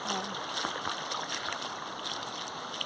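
Heavy rain sends water rushing forcefully in front of a house, a constant, dense wash of flowing and splashing water heard close and steady for the whole stretch.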